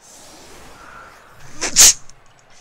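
A single sharp, close sneeze bursts out of a quiet room during a Blood Bowl 2 session, preceded by a faint intake of breath.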